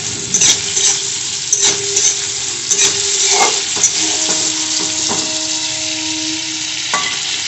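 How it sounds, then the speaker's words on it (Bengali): Prawns fry in hot oil in a pan for a potol chingri dish, a loud, close, steady sizzle with sharp clicks and scrapes of a spatula turning them at irregular intervals. "দেখুন, মাছটা ভাজা হয়ে গেছে, এবার আমি তুলে নিচ্ছি"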